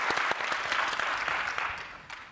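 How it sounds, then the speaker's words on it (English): Audience applause for the panelists at a climate resilience forum, a steady wash of many hands clapping for about two seconds, fairly close and even, with no talk over it. "let's give a round of applause to all the panelists today"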